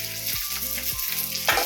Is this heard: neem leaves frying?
yes